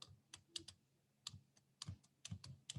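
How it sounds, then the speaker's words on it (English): Quiet, close clicking of keys tapped on a handheld calculator, in irregular bursts of single presses and quick runs. "I'll type that in my handheld calculator."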